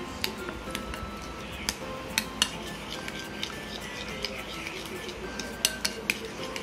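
A mayonnaise mixture with oyster mushrooms being stirred in a bowl, with scattered light clinks and taps of a utensil against the bowl over soft mixing sounds, close and fairly quiet.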